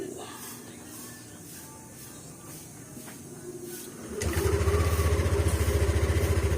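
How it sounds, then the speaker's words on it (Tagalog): A Yamaha NMAX scooter engine with fresh oil turns over and catches at about four seconds, then settles into a steady, close idle with an even pulsing beat. "paandarin na natin si NMAX para mapainit yung ating makina"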